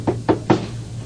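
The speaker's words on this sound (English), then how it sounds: "Somebody, I say, somebody knock." Three sharp knocks on a door, evenly spaced and close, sounding alone against a steady low hum in an old-time radio comedy scene.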